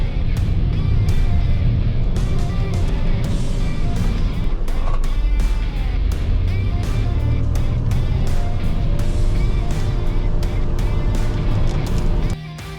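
Nissan Kicks VE hybrid accelerating hard on the road, a loud, sustained drone of motor and road noise that holds steady before easing off at the end.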